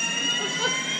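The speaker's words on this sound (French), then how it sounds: "y a l'alarme qui a retenti comme vous pouvez entendre derrière, donc on évacue" A fire alarm sounds continuously and steadily, a loud high-pitched electronic tone that fills the room as a building is evacuated at night.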